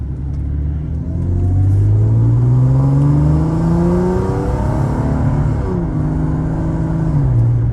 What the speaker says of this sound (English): push the car a little bit more so you can get a feel for it.